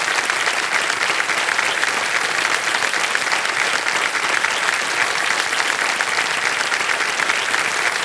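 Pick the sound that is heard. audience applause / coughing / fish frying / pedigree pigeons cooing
audience applause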